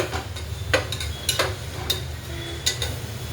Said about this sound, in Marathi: आता हे आपण वाटण टाकून घेऊया तेलामध्ये